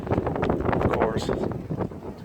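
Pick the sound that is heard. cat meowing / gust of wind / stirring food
gust of wind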